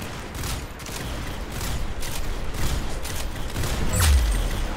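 Gunfire in the shooter game Arsenal: dense, continuous rapid shots and bursts, loud and close, with a boom near the end and no talking over it.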